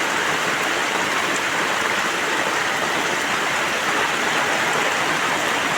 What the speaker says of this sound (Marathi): हा अंगण्याच्या पुढचा धबधबा